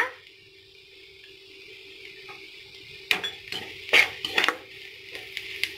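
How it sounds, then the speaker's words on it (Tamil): A spoon scrapes and clinks against a pan as garam masala and chili powder are stirred into a paneer butter masala base, with a faint steady hiss underneath and several sharp knocks in the second half. "கரம் மசாலா நல்லா கிளறிட்டுக்கோங்க"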